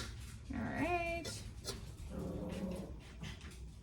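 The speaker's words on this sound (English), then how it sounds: "Gabby, quit barking." Gabby, a pet dog, gives a couple of short whiny barks and yelps indoors in a home kitchen, fairly near and moderately loud, with quiet room noise between them.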